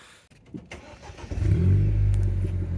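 A Mk7 Ford Fiesta ST engine with an aftermarket exhaust cranks and catches, then settles into a deep, loud, throaty idle rumble close by.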